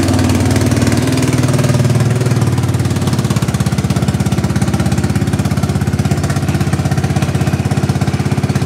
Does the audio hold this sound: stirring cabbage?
no